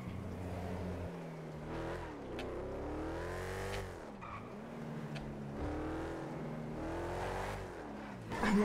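Fast car engine in GTA 5, steady loud revving that climbs and drops in pitch through repeated gear shifts, with occasional tire squeals and no talk over it.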